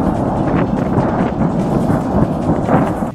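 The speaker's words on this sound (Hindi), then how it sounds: "धुएं के साथ डिपो से आ रही धमाकों की गूंज ने इलाके के लोगों को खौफ से भर दिया।" Deep, continuous rumbling booms roll and echo from explosions at a weapons depot, a dense, loud wall of low-frequency noise with no break and no voices.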